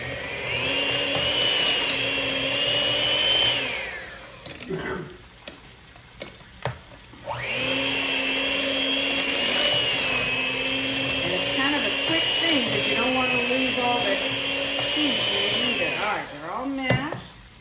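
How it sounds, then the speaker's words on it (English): A motorized kitchen appliance mashes a pot of boiled potatoes, a loud whining motor hum with a rattling edge in two long runs, separated by a short pause filled with clatter and scraping. "we're going to get all this little beautiful mashed potatoes good and mashed before we add anything"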